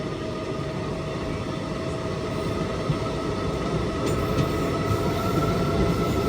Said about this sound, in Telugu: శబరి ఎక్స్ప్రెస్.